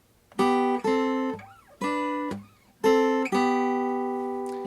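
Strummed acoustic-style guitar chords in a song's first-section rhythm ring out in a halting rhythm, four or five hits separated by short muted gaps, the last chord left to sustain; close, no voice.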